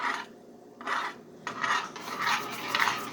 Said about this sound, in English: You got to stir it constantly.